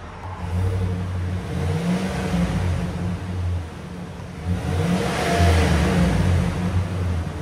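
A 2023 Chevy Silverado 2500 HD pickup's 6.6L V8 engine, on its stock exhaust, idles and revs up a few times in bursts, a rumbling mid-range growl rising and settling, heard fairly close.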